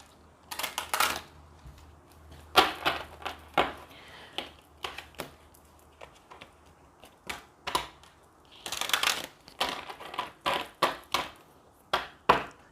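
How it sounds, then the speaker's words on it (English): Tarot cards being shuffled in quick bursts of crisp riffling and slapping, with brief pauses between rounds, close and fairly quiet. "Let me shuffle one more time."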